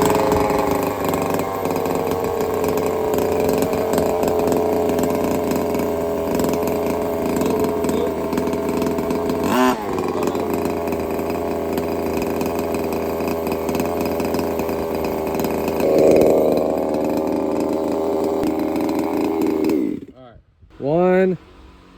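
Small two-stroke gas engine of a 1/5 scale Redcat Rampage XT RC car running at a steady buzzing idle, revving up briefly before cutting off near the end.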